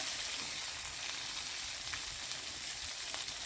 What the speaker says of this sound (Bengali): বন্ধুরা মা ঝিলিমিলি দিয়ে যেতে বলে তাই জন্য তেলটা ফুটছে।